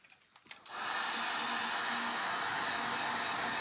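A hair dryer switches on after a few soft clicks and blows steadily and loudly, drying paint around the eyes of a pink skull before Rub 'n Buff is applied.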